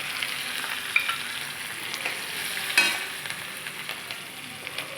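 Curry leaves fry in a pan for Guntur gongura, with a soft steady sizzle and occasional faint crackles and spoon taps, close but fairly quiet.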